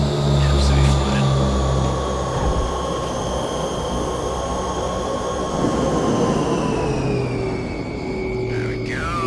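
Thrust reversers of a Hawker Siddeley HS 748 in the FSX flight simulator build into a broad rushing roar over steady engine tones, with someone talking throughout.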